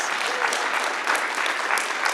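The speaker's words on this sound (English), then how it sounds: "Can you give them a round of applause?" A seated audience applauds a panel at a talk on turning brownfields into affordable housing, a short burst of dense, even clapping heard alone.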